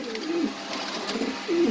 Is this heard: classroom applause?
no